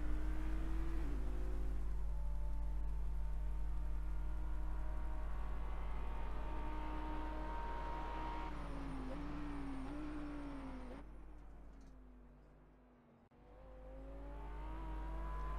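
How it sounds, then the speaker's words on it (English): Audi R8 engine in the Assetto Corsa racing game, a steady loud drone rising and falling in pitch through gear changes, dipping briefly near the end before building again. "Look at what this Audi R8 can do in NGK chicane."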